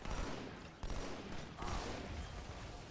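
Sustained gunfire in the video game Halo 2, a loud, dense, continuous rattle of shots with two brief breaks, heard alone without talk.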